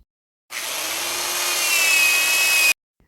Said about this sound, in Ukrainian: Отвори я буду просверлювати гравірувальною машинкою з невеликим сверлом.